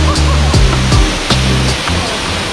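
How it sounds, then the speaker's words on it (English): Toraille Waterfall in Soufriere, St. Lucia, a small but strong fall, pours in a steady broadband rush, loud and close, with a voice talking over it. "the Torell Waterfall. This small but mighty waterfall is accessible and easy to swim through."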